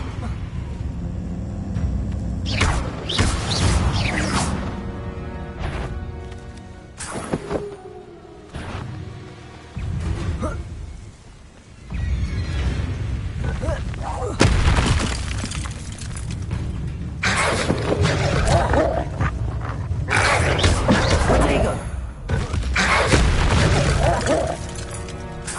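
Spell casts and magical impacts in Hogwarts Legacy gameplay, with repeated booming bursts and shattering crashes over a dense, busy game soundscape, broken by a few brief quieter gaps.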